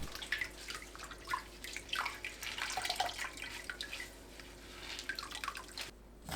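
Fatsia shoots being rinsed in cold water, with steady splashing and dripping water running close by throughout, no voices.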